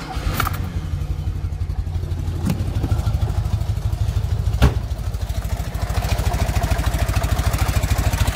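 A Fiat 126p engine idles on its old, worn exhaust with a steady, rough pulsing note, close and loud, with a couple of sharp clanks along the way.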